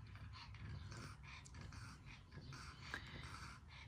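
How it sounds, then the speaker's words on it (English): A dog pants and breathes rhythmically close by at someone's feet on a hot day, with soft snorts and quick breaths running steadily throughout. "I bet you can hear her breathing, panting."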